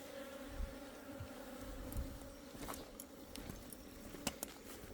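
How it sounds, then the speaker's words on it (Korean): Asian honeybees buzz near a beehive in a soft, steady drone with occasional faint clicks and taps, close but quiet, with no voices. "이게 동양적 꿀벌들"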